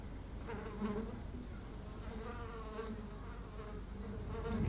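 A bee buzzes through a movie scene, its drone sitting steadily in the background at moderate level, swelling slightly toward the end.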